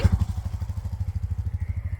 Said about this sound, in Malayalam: പുറകിലൊരാൾ വരുന്നുണ്ട് ബൈക്കിൽ